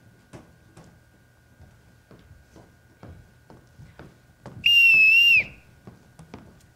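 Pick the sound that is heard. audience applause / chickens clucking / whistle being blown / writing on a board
whistle being blown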